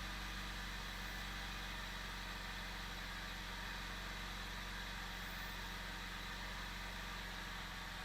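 A BMW M54B30 inline-six, slightly warm, idles steadily with a continuous low engine hum, its revs slowly settling down, close and alone without any talk.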